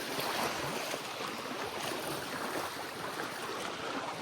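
Sea water washing against the shore of a beach lot, a steady, close, fairly loud rush of surf and lapping waves with no speech.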